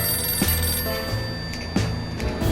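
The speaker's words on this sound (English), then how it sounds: "There's a phone ringing." An old-style telephone bell rings insistently in repeated bursts, loud and close, with no voices, in the video game 60 Seconds! Reatomized.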